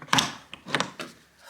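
A door fitted with a newly installed heavy-duty super lock swings shut, giving a couple of close wooden thunks and knocks with short pauses between them.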